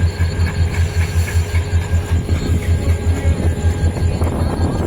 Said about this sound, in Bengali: এটা একসঙ্গে 3 ট্রেন ময়মনসিংহ জংশনে